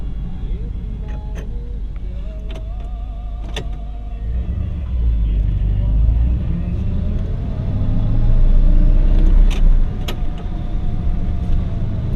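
A 1959 Chevrolet Bel Air engine with a three-speed column shift hums and rumbles steadily while driving, swelling louder partway through as it speeds up, with faint clicks and rattles inside the cabin.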